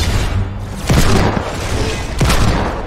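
Heavy sniper rifle shots in the video game Fortnite, two loud booming reports about a second and a half apart, each with a sharp onset and a trailing rumble over dense game noise.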